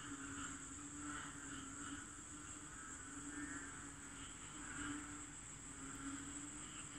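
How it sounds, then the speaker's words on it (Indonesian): Frogs croak at night around floodwater before dawn, a faint, distant chorus of pulsing calls repeating in soft waves over a continuous insect-like hum, with no voices. "Katak kot, katak bunyi kan."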